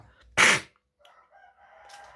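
A fighting rooster gives a single loud, close crow lasting about half a second, followed by faint, softer fowl sounds and low background noise.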